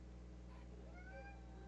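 Pet cat named Kitty or Poppy meowing indoors, a short rising-and-falling meow near the end over a steady low hum from game audio or equipment; faint and fairly close.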